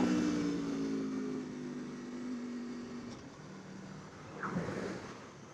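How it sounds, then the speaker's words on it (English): A stock exhaust on an Aprilia RSV4 Factory 1100 sportbike holds a steady, low engine drone during a ride around Malibu, mixed with rushing wind, and it swells slightly near the end. "That stock Acura exhaust sounds really good."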